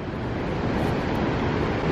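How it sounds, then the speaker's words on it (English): Big ocean waves rolling in on the California coast, a continuous loud roar of surf with wind noise and no voices. "All right, some pretty big waves rolling in here."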